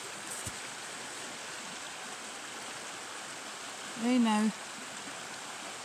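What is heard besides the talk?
flowing water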